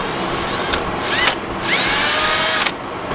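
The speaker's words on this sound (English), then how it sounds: "I always wanted to drill holes in a 67 Camaro." A power drill boring holes into the body of a 1967 Camaro during a transmission install, a loud close whine that revs up and drops in several bursts, with brief pauses between.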